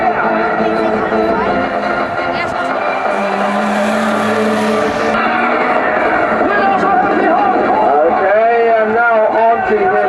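A BMW drifting through a corner on a drift course, engine revving hard with drawn-out tire squeal, close and loud under continuous commentary.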